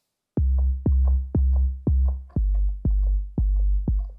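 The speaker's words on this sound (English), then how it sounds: "That's starting to sound a lot like a kick drum" Synthesized kick drum built in the SynthCell synth in Pro Tools: eight evenly spaced deep booming hits with a fast pitch drop and short decay, loud and dry, alone with no talk.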